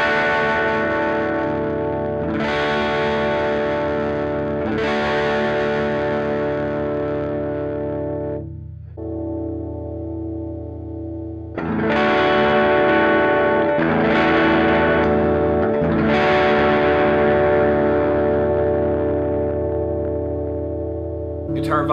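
An electric guitar fitted with Peacock pickups plays through distortion and chorus, both pickups on with tones maxed, ringing sustained chords that swell and decay, loud and close with a brief quieter gap midway.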